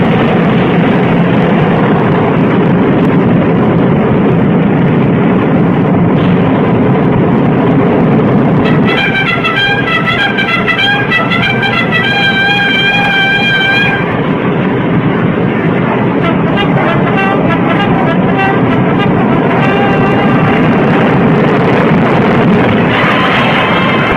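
A Northrop YB-49 Flying Wing bomber roars through its takeoff run in 1948, a loud, sustained, wind-blown engine rumble that stays heavy throughout, with a brief whining tonal layer partway through.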